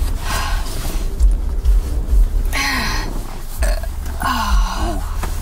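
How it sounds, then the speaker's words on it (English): Deep, drawn-out burps from a person close to the mic, several croaking belches rising and falling in pitch over a low rumbling background. "I have to burp."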